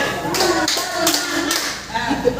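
A class claps together in a counting game, giving a few sharp, evenly spaced claps close by, with voices heard around them.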